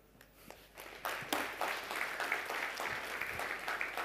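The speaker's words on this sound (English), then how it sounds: "Let's give it a bigger round of applause for the information." Applause breaks out from the audience at a big data and analytics summit after a talk. It starts as scattered claps, quickly builds into a full round, and stays steady through the end.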